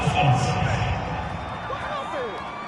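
Stadium crowd at an NFL game between the Colts and Patriots roars steadily ahead of a big third down, a dense wash of cheering that swells early then holds, with no announcer talk over it.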